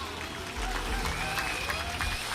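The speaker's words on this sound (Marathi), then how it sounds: "आपणही टाळ्या वाजवूया जोरदार" Audience applause at a public event, dense steady clapping from a crowd throughout, with voices mixed in.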